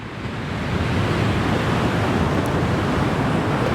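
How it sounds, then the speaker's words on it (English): Steady, loud roar of surf washing onto a sandy beach, continuous broadband rush with a little wind across the microphone and no pauses. "The beach looks very serene"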